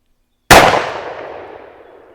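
A single loud gunshot from a Taurus Judge revolver loaded with double aught buckshot, fired at a target 7 yards away, cracking sharply after a moment of silence and ringing out in a long fading tail.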